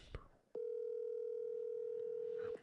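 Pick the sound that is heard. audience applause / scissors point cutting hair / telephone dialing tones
telephone dialing tones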